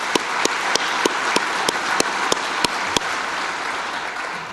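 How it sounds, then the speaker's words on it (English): A gala awards audience at a chamber of commerce event claps for an honoree, a fairly loud crowd applause with a few sharp, closer individual claps standing out at a regular pace over the wash. "Let's give him a round of applause."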